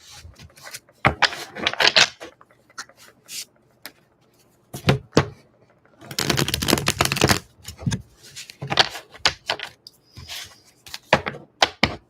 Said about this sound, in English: So we'll just do some shuffling.